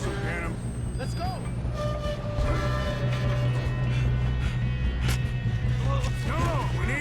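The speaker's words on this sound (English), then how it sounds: "we need to stop this train" Train in Red Dead Redemption 2 runs with a steady low mechanical rumble and rhythmic rattling, loud and close throughout, with brief squeaks above.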